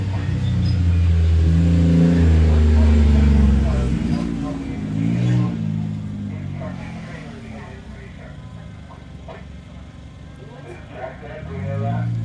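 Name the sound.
off-road race truck engine revving on course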